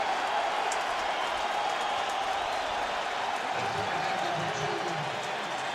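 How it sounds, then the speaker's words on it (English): Stadium crowd at an NFL game, Indianapolis Colts at Oakland Raiders in 2007, applauding as the Raiders' number one draft pick takes the field; a steady, distant wash of clapping and crowd noise runs throughout at an even level. "here comes Jamarcus Russell, and the crowd acknowledges their #1 pick"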